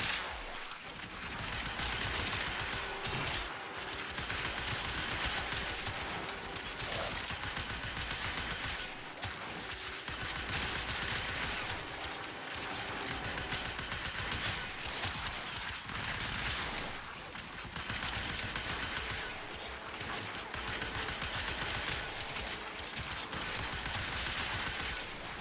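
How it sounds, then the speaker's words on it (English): Cyanex gun alternate fire in the video game Warframe, dense continuous bursts of gunfire at steady loudness over game effects, no talking. "I'm looking for a line of like 3 or more enemies to alternate fire."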